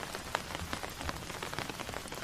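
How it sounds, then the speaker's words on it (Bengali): Heavy rain pelts a tin roof as a dense, steady patter of large drops, close and continuous, with individual taps standing out against the constant drumming. "এদিকে মুষলধারে বৃষ্টি হচ্ছে। বৃষ্টির বড় বড় ফোঁটা টিনের ওপর টপ টপ করে ঝরছে।"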